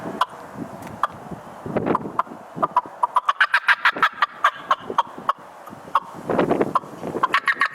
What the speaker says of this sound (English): You come back with a fly down cackle.